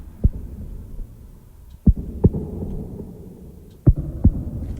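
Deep, booming drum hits from the AXIS Oblivion cinematic motion engine plugin land in pairs, sharp low thumps with short rumbling tails, loud and up front with no voices.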